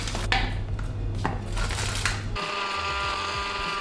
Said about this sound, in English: My blender did not enjoy that at all.